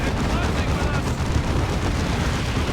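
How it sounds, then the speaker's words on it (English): Gunfire and rocket hits from a Warhammer 40,000: Dawn of War 2 battle, Ordo Malleus against Orks: a dense, continuous barrage of shots and blasts with a commentator's voice running beneath. "It's also taking rocket hits though."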